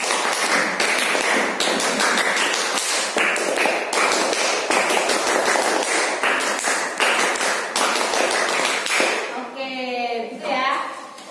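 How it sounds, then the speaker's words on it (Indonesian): A class performs the rhythmic scout clap as a group in a classroom: loud, sharp, tightly synchronized claps in repeated patterned bursts fill most of the stretch, and a voice speaks briefly at the end. "Kalian harus tepuk pramuka 3 kali."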